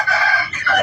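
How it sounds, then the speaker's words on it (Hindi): An Aseel rooster crows loud and close in a single drawn-out call with a brief dip near the end, and hens are kept close by. "हमारे पास असील मुर्गियाँ भी हैं और ये मुर्गा भी है"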